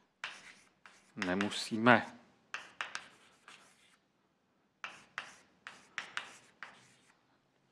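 Marker or chalk strokes on a lecture board during a Czech mathematics class on optimization and game theory, short scratchy squeaks in irregular bursts, with a lecturer speaking briefly between them.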